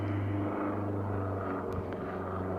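A light aircraft taking off from an aero club drones as a steady, low engine hum that holds evenly, moderately distant, with no talk.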